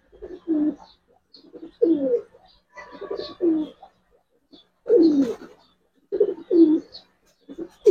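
Giribaz and colored pigeons coo at a pigeon farm, their soft throaty rolling calls repeating in short clusters, close by with brief pauses between.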